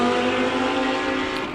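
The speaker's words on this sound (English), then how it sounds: "Coming onto the track now is San Mudley in the Bigfoot Express Freight Porsche." A Bigfoot Express Freight Porsche race car coming onto the track at Dezzi Raceway, its engine a steady, loud, droning roar held throughout the short stretch with no break.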